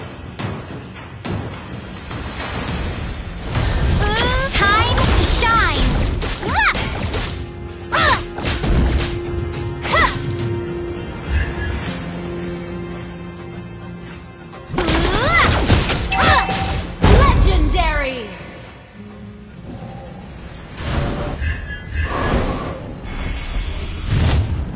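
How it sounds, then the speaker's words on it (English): Turret destroyed in the Mobile Legends video game, heavy crashing and booming impacts amid dense game effects and music, loud and busy throughout, with a brief louder burst near the middle. "Your team destroyed a turret."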